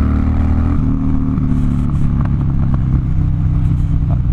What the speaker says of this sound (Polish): Ten odgłos wydechów jest taki, bym powiedział, basowy.